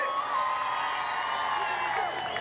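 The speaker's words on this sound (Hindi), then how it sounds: "ताली बजाइए" A political rally crowd applauds CPRM leader R.B. Rai: a dense, steady wash of clapping and cheering from a large audience, sustained without a break for the whole stretch.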